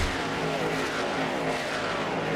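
Race cars in the NR2003 racing game roar past in a dense pack during a three-wide battle, a loud, continuous engine drone that fills the whole stretch without speech.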